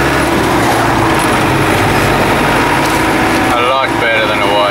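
A Land Rover Defender 200Tdi with an LT77 gearbox drives in third gear, its diesel engine droning steadily and loud throughout, with road and cabin noise and some voices talking faintly over it near the end.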